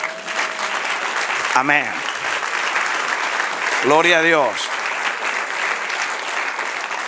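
A church congregation applauds at a Spanish-language sermon, a steady wash of clapping throughout while a man calls out two short exclamations over it.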